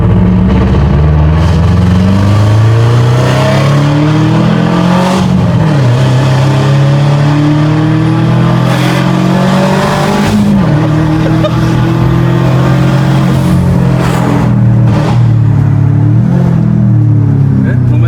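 A tuned Subaru GVB engine revs while driving, its deep rising and falling drone loud and close throughout, with speech-like murmurs over the engine noise.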